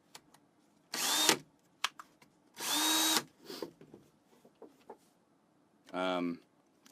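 A Ryobi variable-speed cordless drill fitted with an auger bit whirs in three short bursts, its pitch climbing and falling as the speed changes, with quiet handling clicks between runs.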